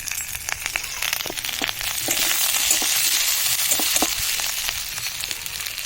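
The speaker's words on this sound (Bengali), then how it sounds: "আর লঙ্কা গুঁড়ো দিয়ে মশলাটা ভালো করে ভেজে নেব" Spice paste frying with chilli powder in a pan for a vegetable and paneer dish, producing a loud, close sizzle that swells midway, broken by quick scrapes and small crackles.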